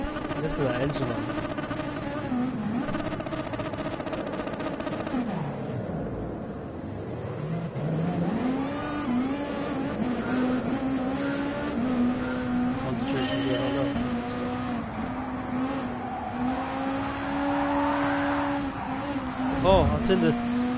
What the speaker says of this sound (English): Listen to that engine, man.